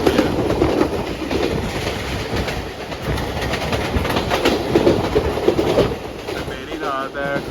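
The Shalimar Express rolls along the rails between Faisalabad and Lahore in Pakistan, with a continuous loud rumble and rhythmic clickety-clack of wheels heard from inside the train at night.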